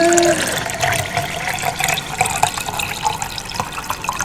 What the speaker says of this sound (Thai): เราก็จะใส่น้ำ